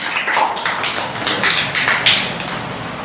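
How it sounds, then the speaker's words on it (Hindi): An audience claps loudly for a child who has just given a speech, a dense, sustained burst of many hands applauding close by with no talking over it. "क्लैपिंग करें जोरदार"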